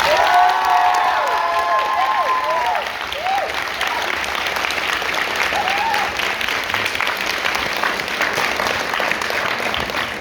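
A big round of audience applause at the close of a talk, loud and sustained for about ten seconds, with a few whoops and cheers rising over the clapping early on.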